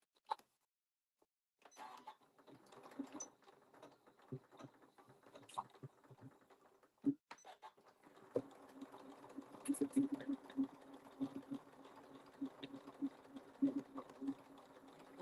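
Sewing machine stitching along the hem of a small fabric gift card bag, a close, uneven mechanical whirr in start-stop bursts with faint handling noises between runs.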